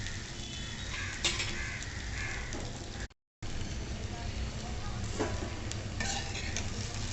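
Okra (bhindi) frying in oil in a pan, stirred now and then: a steady close sizzle with occasional scraping clatters, briefly cutting out to silence midway.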